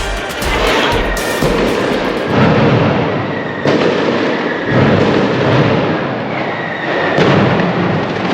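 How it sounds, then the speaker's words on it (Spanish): Loud mascletà firecrackers explode during the Fallas in Valencia in a rapid, continuous barrage, sharp bangs and booming blasts overlapping with crackling bursts, close and intense, without talk. "se escucha el sonido de la mascletá de los últimos petardos"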